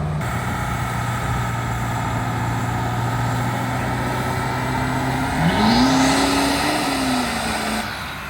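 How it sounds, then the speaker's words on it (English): A Duramax diesel pickup truck at a diesel challenge event idles with a steady low rumble, then revs briefly, its engine note rising and falling before settling back. "we got this Duramax here"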